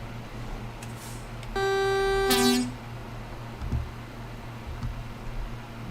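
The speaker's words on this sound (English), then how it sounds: "The air horn sounds weird." A single sustained truck air horn blast in American Truck Simulator, about a second long, loud and tonal, ending abruptly over a low steady engine hum.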